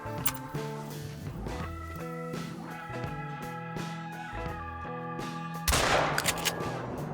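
A single loud shotgun blast in theHunter: Call of the Wild rings out near the end, over steady background game music.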